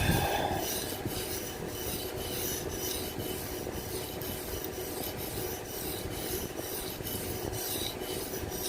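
A knife is drawn in steady repeated strokes across a sharpener, producing an even rhythmic rasping scrape throughout with no talking.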